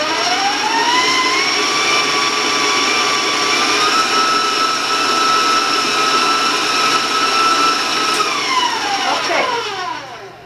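A stand or hand electric mixer beats sugar and eggs for a spice cake, a loud steady whine with bright humming harmonics held throughout, the pitch dropping and sweeping away as the motor slows near the end.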